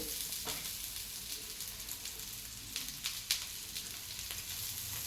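Dosa frying in ghee on a hot pan, a steady close crackling sizzle with scattered sharper pops, moderately quiet and continuous with no talking.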